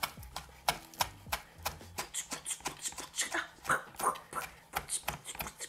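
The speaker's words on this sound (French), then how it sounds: "On doit couper un peu de ciboulette et on met ça dans la salade." A knife chops fresh chives for a salad in quick, steady cuts on a board, a close rhythmic series of crisp knocks.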